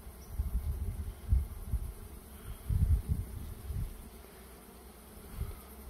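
Soft, low buzzing of honeybees at a multi-storey hive on a mountainside comes and goes in faint swells, with no voices.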